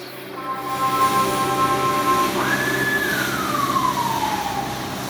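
A siren wails from an emergency vehicle, its tone held steady before rising and then sliding slowly downward, loud and continuous over a rumbling background with no talk.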